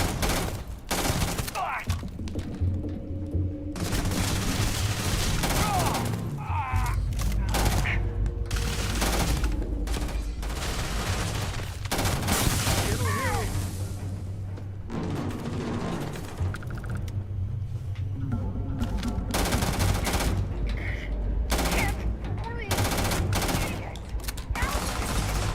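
Gunfire in the space game Starfield, with bursts of automatic fire and single shots crackling throughout, interrupted by short pauses, and game voices talking faintly underneath at times.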